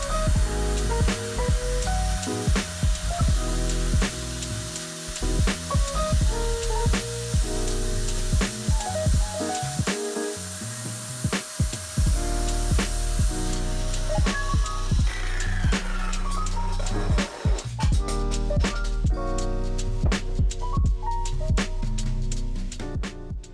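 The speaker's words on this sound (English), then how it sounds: "Let's apply some lubricant and hit it with some compressed air." Compressed air hisses in loud, sustained bursts over a lubricated 3D-printed fidget toy, its spinning parts adding rapid clicking and rattling that shifts pitch as the blast continues.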